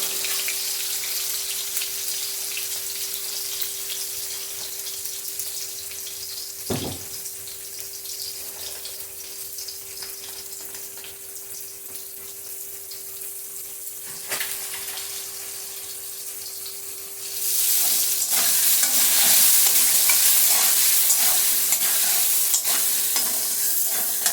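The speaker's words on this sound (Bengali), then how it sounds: "আলুটা মোটামুটি ভাজা হয়ে এসছে" Potatoes sizzle steadily in a hot pan with occasional stirring scrapes; the frying grows louder and hissier toward the end.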